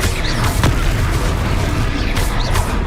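Confringo spell explosion in Hogwarts Legacy, a sustained booming blast with crackling bursts and a couple of sharp whooshing impacts, loud and close amid game noise.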